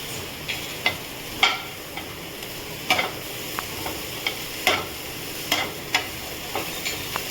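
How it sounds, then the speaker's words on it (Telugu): Broccoli stir-fry sizzling in a pan over a high flame while a utensil stirs it, with a steady hiss and repeated sharp clinks against the pan. "ఇట్లా హై ఫ్లేమ్ మీద కలపాలి"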